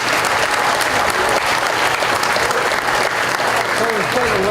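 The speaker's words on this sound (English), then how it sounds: "give all those people a round of applause" Dense, steady applause from an audience at a county fair hog show, loud and continuous throughout, with a crowd murmur and faint voices underneath.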